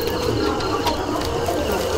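Pigeons coo in a loft, low murmuring calls overlapping against a busy background of rustling and other birds.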